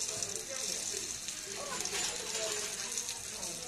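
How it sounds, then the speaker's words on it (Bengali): Green chillies and black cumin stirred in hot oil for a Bengali tangra fish curry, giving a steady close sizzle with soft stirring scrapes that runs unbroken throughout. "এবার আমি তেলের মধ্যেই লঙ্কা আর কালো জিরাটা একটু নাড়াচাড়া করে নিচ্ছি"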